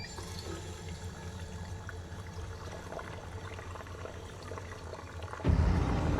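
Faucet running in a scene from the TV series Buffy the Vampire Slayer, where the tap spews blood; a low, steady rushing of liquid swells into a louder gush near the end.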